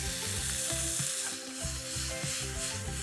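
Cherry tomatoes sizzle and crackle loudly in a hot frying pan, a steady close hiss with pops, stirred and jostled as they cook, with no voices.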